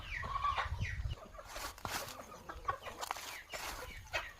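Country native chickens clucking on a farm, scattered close clucks and short calls over a background of other rustling sounds, with no talking.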